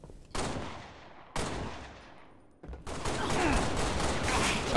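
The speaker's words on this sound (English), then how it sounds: "Go in there, start shooting, shoot" Gunfire in the Halo video game, with heavy bursts of shots that ring out and decay, then a sustained rattling barrage of automatic fire, loud and close, with no talk over it.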